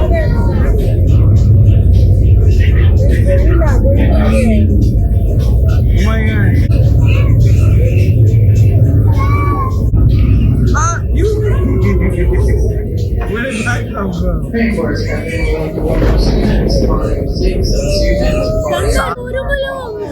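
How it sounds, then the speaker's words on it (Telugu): Simulated thunder rumbles low and loud through the dining room of a Rainforest Cafe restaurant at Disney World, a steady roar sustained for the whole stretch beneath constant nearby chatter and voices. "ఉరుములు ఉరుముతున్నాయి."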